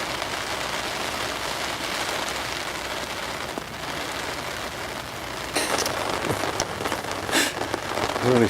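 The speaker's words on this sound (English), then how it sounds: "it's still hammering down with rain." Heavy rain pours down steadily, a dense hiss of drops drumming on surfaces, growing slightly louder and sharper in the last few seconds.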